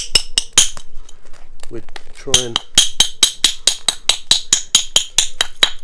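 Sharp, ringing strikes on dacite stone during flintknapping repeat at a steady quick pace, bright clicks close up, with a brief spoken phrase in the middle.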